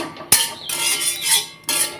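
A metal wok (kadai), freshly washed, is set down on a kitchen stove with a sharp metallic clatter, followed by further bright clanks and a second knock near the end.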